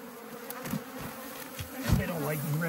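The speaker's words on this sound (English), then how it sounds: "push the bees back in." Honeybees buzz around a hive in close swirling bursts, wings droning up and down in pitch as they fly around nearby.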